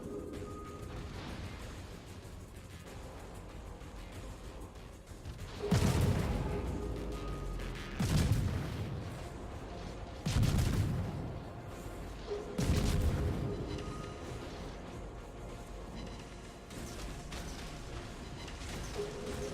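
Naval guns firing and shells exploding in a ranked World of Warships battle: four heavy, booming blasts land about two seconds apart in the middle of the clip, loud over a steady low rumble of game ambience, with no talking.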